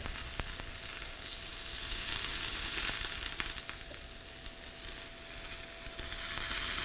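A steak sizzles on a Greecho indoor smokeless grill, a dense, even hiss held close and loud for several seconds, dotted with a few faint crackles and no talking.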